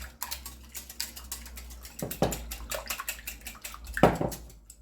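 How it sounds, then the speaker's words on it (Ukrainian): Eggs and sugar beaten with a hand whisk in a bowl, a fast, steady run of close, clattering strokes with a few sharper knocks against the bowl's side. "І також все вінчиком гарно збиваю."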